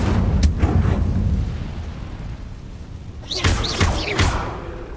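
A fire spell cast in Hogwarts Legacy on hard difficulty: steady rumbling game sound, then a cluster of loud whooshing, crackling bursts near the end.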